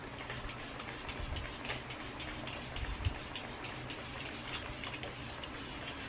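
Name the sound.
makeup setting spray being sprayed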